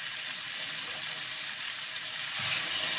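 Cauliflower, potato and prawns sauté in spices in a hot pan, giving a steady close sizzle and crackle with a faint stirring scrape near the end and no one speaking.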